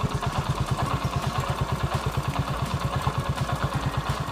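A repaired Hero Super XL 100cc moped engine, fitted with a new bore kit, idles close by with a steady, rapid, even putter throughout and no voices.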